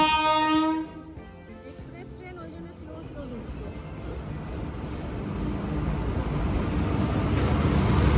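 An Indian Railways train pulls into a station. A brief horn blast is followed by a low rolling rumble that grows steadily louder as the train approaches, amid platform voices.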